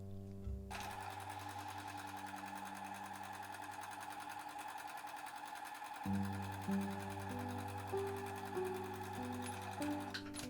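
Sewing machine stitching a pair of sun hat crown pieces right sides together, a steady motorized whir running nearly continuously with a rise in pitch and intensity partway through, close and alone.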